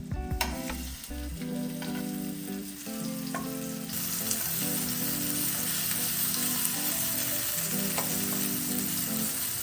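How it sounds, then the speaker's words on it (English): Canned jackfruit pieces fry in a pan, a continuous loud sizzle that swells as more pieces go in, with scattered utensil taps and scrapes close by and no speech. "we're gonna make sure to fry the jackfruit on both sides"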